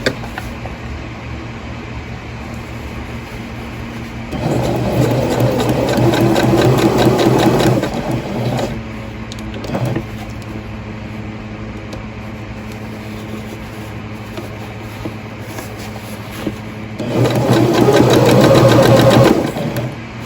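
A sewing machine stitching a silk taffeta petticoat runs in two loud, steady bursts of rapid whirring, separated by a quiet stretch with a brief mechanical clunk, close up and with no talking.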